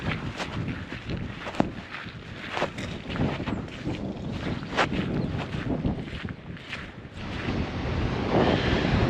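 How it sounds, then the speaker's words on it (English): Water pours over the dam at Siblyback Lake, a continuous rushing wash heard outdoors and mixed with gusty wind buffeting the microphone, steady and moderately loud throughout. "The water over the dam."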